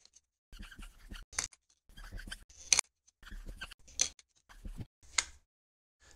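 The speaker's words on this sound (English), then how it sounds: "let me write down the length that I measure" A pen scratches across paper as a measurement is written down, several short, close bursts of scribbling separated by brief pauses in a quiet room.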